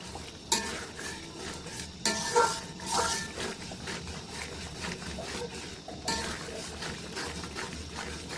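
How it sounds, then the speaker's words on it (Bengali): Chicken roast cooked with Radhuni spice mix, chilli and a tablespoon of tomato sauce is stirred continuously in a pan, with irregular scraping strokes and clinks over a low sizzle, louder bursts near the start and middle. "আর টমেটো সস দিয়ে দেবো এক টেবিল চামচ পরিমাণ দিয়ে এগুলোকে অনবরত নাড়তে থাকবেন"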